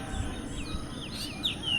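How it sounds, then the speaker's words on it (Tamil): A sparrow chirps outdoors among white flowers, giving short, bright, rising and falling tweets scattered over a steady low background rumble, fairly close and clear. "குருவி வேறு கத்திகிட்ருக்கு"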